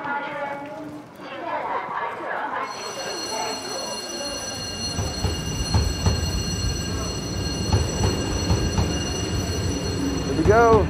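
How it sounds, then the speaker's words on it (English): A slow train in China's Daliangshan, averaging under 40 km/h, rumbles steadily along the rails, with clattering wheels and a sustained high whine, while people talk nearby. "The train has an average speed of less than 40 kilometers per hour"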